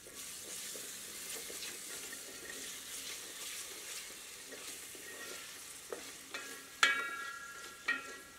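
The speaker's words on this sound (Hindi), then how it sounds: "थोड़ा नमक सम्मिलित करके मिला देते हैं ताकि टमाटर आसानी से गल जाए।" Tomatoes being stirred with salt in a pan for Malabar chicken, a steady soft sizzle and scraping under a few sharper clinks of the spoon near the end, no voices.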